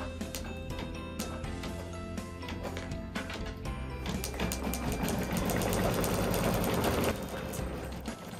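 An embroidery machine stitches a name onto a towel with a rapid, regular mechanical ticking and clatter that builds louder toward the middle and then eases, close by with no voices.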